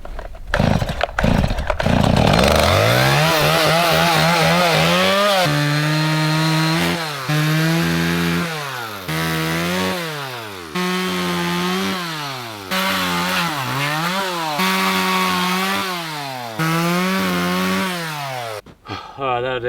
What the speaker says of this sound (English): I'm just going to quickly whack some chainsaw cuts through into the fire pit